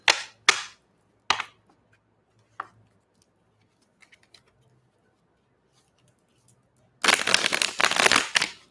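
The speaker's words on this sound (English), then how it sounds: "get a really good shuffle" Tarot cards being shuffled: a few sharp riffle bursts early, then a sustained, dense riffle near the end, close and fairly loud, with quiet gaps between.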